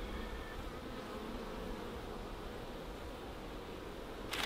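Honeybees buzzing around hives during a fall hive split, a faint steady drone filling the background with no talk.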